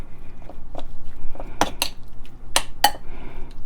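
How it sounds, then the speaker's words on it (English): A utensil scrapes and clinks against a pan while beef and broccoli in a cornstarch-thickened sauce are stirred, giving a few sharp metallic knocks over a quiet background. "you want to give that a stir"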